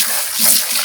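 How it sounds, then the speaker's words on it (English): Water poured into concentrated bleach for closing a swimming pool, a steady broadband splashing gush lasting under a second, close and fairly loud, with no talking. "I just hit it with more water"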